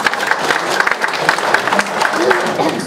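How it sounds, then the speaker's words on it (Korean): Audience applause at an international diplomacy and security forum as a politician is welcomed, a few seconds of fairly close clapping with some murmuring voices underneath. "우리 박수 한번 쳐주세요."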